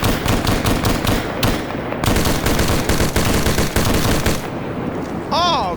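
A military video game fills the scene with dense, nonstop automatic gunfire and rapid shots, loud and continuous throughout.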